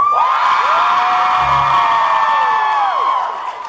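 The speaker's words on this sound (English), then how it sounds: "By a round of applause and blood-curdling screams" A convention panel crowd roars with sustained high-pitched screams, whoops and cheering over applause, loud and close, holding steady for several seconds before tapering off at the end.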